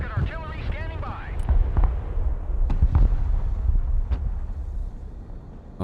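Rocket artillery fires in the war game Broken Arrow as a rumbling barrage of repeated booms and sharp blasts, with a steady wind-like roar underneath and a voice talking briefly early on.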